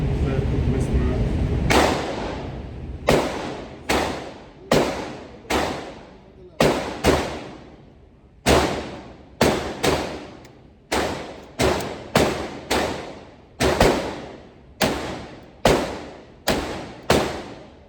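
Handgun shots ring out at a shooting range during a concealed-carry permit qualification: about seventeen loud, sharp reports, some in quick pairs, each with a short echoing decay, after a brief steadier stretch of noise.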